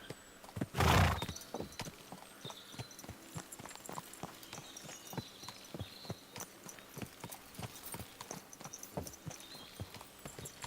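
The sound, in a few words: horse neighing and hooves in video game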